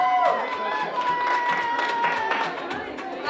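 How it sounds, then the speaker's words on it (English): Guests applaud and cheer at a graduation party, a steady spell of clapping with a few whoops that stays even and fairly loud throughout. "So give her a big round of applause."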